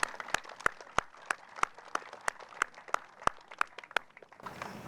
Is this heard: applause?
yes